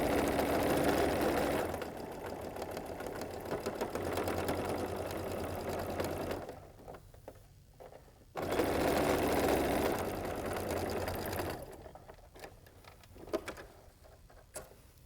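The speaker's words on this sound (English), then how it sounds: "Let's take it here and sew that perfect 1/4 inch seam." A sewing machine stitches a quilt block seam in steady, whirring bursts, running for several seconds, pausing briefly, then running again before stopping, with faint handling clicks between runs.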